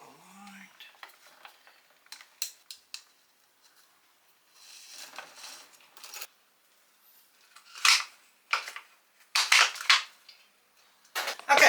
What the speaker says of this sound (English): let's reload the trimming line.